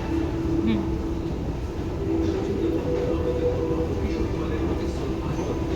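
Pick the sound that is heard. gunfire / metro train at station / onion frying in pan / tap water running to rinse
metro train at station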